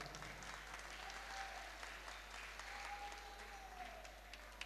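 Faint audience applause at an Urdu mushaira in Bhiwandi, a distant, steady patter of clapping beneath a low background hum.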